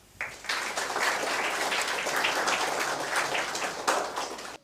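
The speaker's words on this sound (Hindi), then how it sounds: "हम उनका स्वागत करते हैं तालियों से।" An audience at a school event applauds to welcome a speaker: fairly faint clapping starts abruptly and continues as an even, pattering stream for several seconds.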